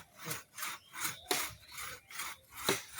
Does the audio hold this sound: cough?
no